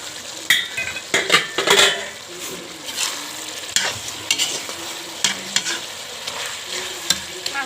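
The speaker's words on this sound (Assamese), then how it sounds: "মছলাখিনি দি মই এতিয়া এনেদৰে ভাজি ল'ম অকণমান" Chicken fries with spice masala in a pan, a close, busy sizzle broken by repeated scraping strokes of a stirring spoon against the metal, with no talking.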